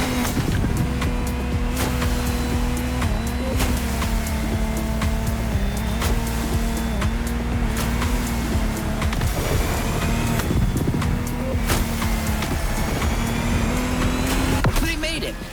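The Lamborghini Technomar speedboat from The Crew Motorfest races with a loud, sustained engine drone and a wavering pitch over splashing water, and a voice speaks over it now and then.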